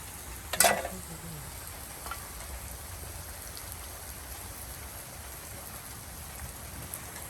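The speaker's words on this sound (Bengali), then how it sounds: "একদিকে পেঁয়াজ কুচি, মরিচ কুচি আপনার তেলে ভেজে নেওয়া হচ্ছে" Chopped onion and chili frying in oil, a steady soft sizzle running throughout, faint and even, with a brief louder clatter near the start.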